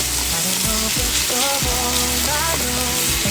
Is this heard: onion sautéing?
yes